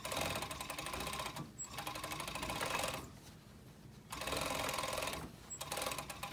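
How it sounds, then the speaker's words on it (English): A serger sewing machine stitches and skims the edge of a knife-edge bolster, running in steady mechanical bursts with two short pauses between them, fairly quiet and with no talk. "On the serger, I wanna go from the inside of the circle as well."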